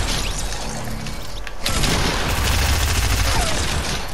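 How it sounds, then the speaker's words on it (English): Dense, rapid gunfire in Fortnite crackles nearly continuously, with a sharp burst resuming after a brief lull just past a second and a half, loud and close. "Oh, why'd I shoot?"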